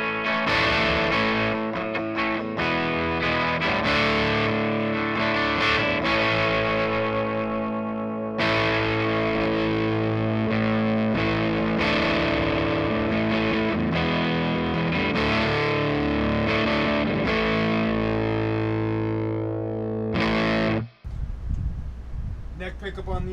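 Heavily distorted electric guitar riffs from a Gibson SG with EMG active pickups, played loud and continuous with chugging rhythm and sustained chords, cutting off abruptly near the end.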